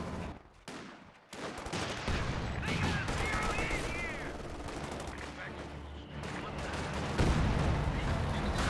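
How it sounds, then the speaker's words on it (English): Battle sounds from the Company of Heroes 2 video game: a mortar shell lands among Volks Grenadiers, mixed with dense crackling gunfire and bursts of machine-gun fire, loud and continuous with a sharp impact near the start. "Good mortar hit there on the Volks Grenadiers."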